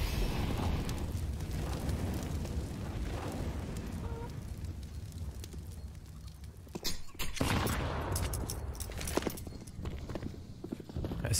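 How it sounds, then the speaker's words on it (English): Grenades bursting on the Inferno map in a Counter-Strike match, a dense rattle of sharp impacts and crackles over constant game noise, with a louder cluster of blasts around the middle. "Nades starting to come in this direction from Mousesports."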